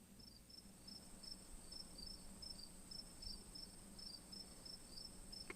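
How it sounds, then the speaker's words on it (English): Crickets chirp in a steady, evenly spaced pulsing trill, faint and continuous against a quiet low hum, with no voices. "Oh, crickets."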